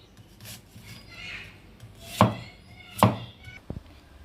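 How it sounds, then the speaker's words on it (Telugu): A knife thinly slices onions on a board, a few separate, sharp close cuts spaced about a second apart over a quiet background. "4 ఉల్లిపాయలు తీసుకుని సన్నగా ఇలా కట్ చేసుకోవాలి."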